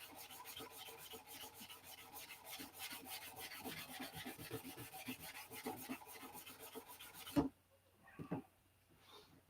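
Steady rhythmic rubbing strokes as sandpaper works over a P-47 model, continuing close and even for about seven seconds, then a sharp knock and a few softer scrapes before quiet.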